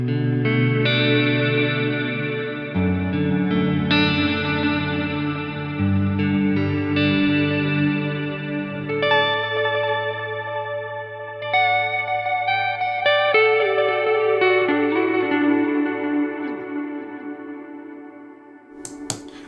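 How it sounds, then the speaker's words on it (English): Ambient guitar through a Line 6 POD Go with heavy wow and flutter: sustained, shimmering chords and notes layered one after another, warbling and echoing for about twenty seconds without any talk. "We can even crank the wow and flutter up more."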